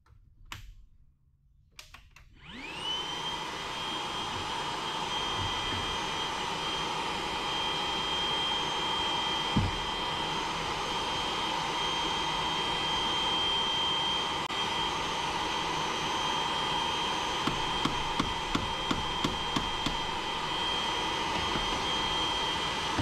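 A shop vacuum runs steadily in a home garage during a Toyota 3RZ turbo engine build, starting up after a brief quiet moment and holding a constant whining drone with a few small clicks and knocks.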